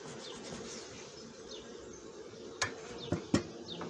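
Honeybees buzzing in front of a queen-rearing hive, a steady dense hum of many insects nearby, broken by a few sharp knocks or clicks near the end.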